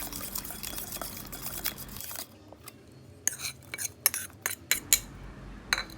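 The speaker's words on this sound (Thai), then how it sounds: "คนให้น้ำตาลละลายนะคะ" A spoon stirs sugar into a sour sauce, a soft trickle at first giving way to a series of light clinks and scrapes against the bowl, close and fairly quiet.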